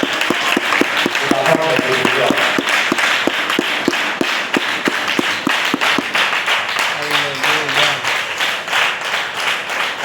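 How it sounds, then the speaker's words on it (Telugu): A church congregation claps in steady, rapid unison rhythm through a loud, reverberant hall, with a few voices speaking and calling out over the clapping. "నీకు చప్పట్లు ఎందుకు పడుతున్నావు తెలుసా?"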